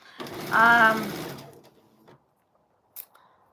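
Sewing machine quilting a cotton floral quilt top, a steady close mechanical whir for about a second and a half that fades out, followed by a faint brief click near the end.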